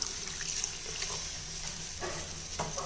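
Water poured into a pot of mutton bone rasam in a home kitchen, a steady close splashing gush running for a few seconds with small bursts of louder spattering.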